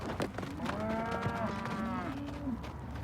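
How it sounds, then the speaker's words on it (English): Young feedlot cattle, recently moved from grass onto grain, give long, drawn-out moos that rise and fall, close and clear over a low background of other livestock. "This cattle's kind of new, still getting used to having humans around."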